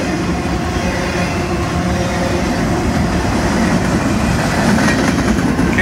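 Freight train with a boxcar rolling past on the CSX Philadelphia Subdivision, a continuous rumble with rhythmic wheel clatter, loud and steady throughout without voices.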